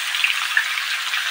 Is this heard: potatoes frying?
yes